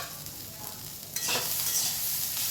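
Ivy gourd (kundri) fries in a pan over low heat. A soft, quiet sizzle jumps to a louder, brighter crackle just over a second in, then keeps going with no voices.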